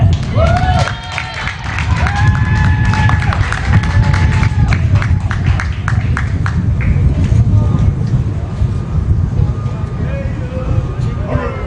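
Crowd at a high school baseball game between the Bowie Bulldogs and Del Valle applauds and cheers steadily, fairly loud and sustained, with an announcer's voice and a few whistles over the clapping.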